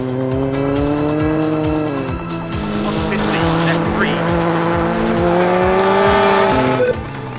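Rally cars from the 2001 season, Peugeot, Subaru, Skoda and Hyundai, race in a video game demo, engines revving loudly and shifting through gears with repeated upshifts, tires squealing over continuous engine drone.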